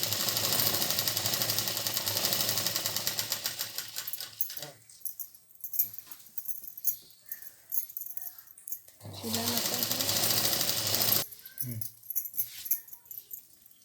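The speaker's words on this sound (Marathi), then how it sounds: "अशी पूर्ण परकडला शिलाई सारखी मारत जायची फोल्ड करून घ्यायचा परकर आणि शिलाई मारत जायची" An electric sewing machine stitches a folded petticoat hem in two sustained runs of rapid, even whirring, separated by quieter handling and someone speaking.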